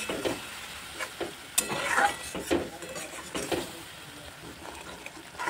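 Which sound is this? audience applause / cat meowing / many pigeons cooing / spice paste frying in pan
spice paste frying in pan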